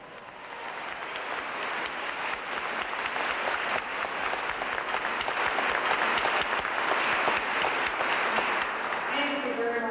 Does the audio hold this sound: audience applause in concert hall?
yes